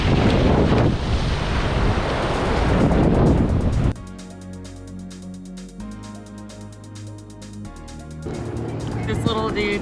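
Big waves crashing at a rough blowhole on St. Thomas during unusually high surf make a loud, roaring wash under wind buffeting for about four seconds, then give way to a quieter tonal background.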